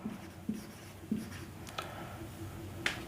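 Chalk or marker scratches and taps on a classroom board during a maths lesson, several short strokes and clicks, close and fairly quiet with no talking.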